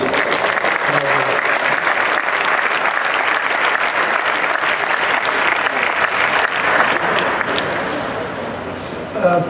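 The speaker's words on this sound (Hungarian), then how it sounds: "egy nagy tapsal üdvözöljük" A crowd at a Christmas party breaks into sustained applause for a newly remarried colleague, many hands clapping loudly and evenly before the clapping tapers off near the end.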